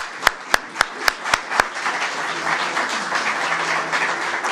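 An audience bursts into applause after six sharp, evenly spaced claps. The clapping then settles into a steady, fairly close ovation that lasts to the end.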